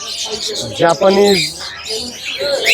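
Small Japanese cage birds chirp and tweet in quick, high bursts close by, mixed with busy background chatter at a bird market.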